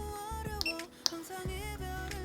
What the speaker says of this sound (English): here you see you got a beep